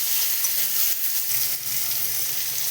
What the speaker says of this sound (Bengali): দেবো একটু আদা বাটা দিয়ে কষাবো ভালো করে